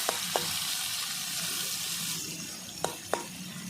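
Shrimp rubbed with salt and turmeric frying in hot oil in a home kitchen, a steady close sizzle with a few sharp crackles and pops near the start and end, with no talk.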